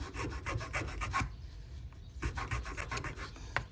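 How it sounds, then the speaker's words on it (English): A file scraping a groove into a canna lily seed makes quick, close rasping strokes in a rapid burst, then a short pause, then another run of scratchy strokes. "I also heard that putting a groove in the seed helps it to germinate quicker."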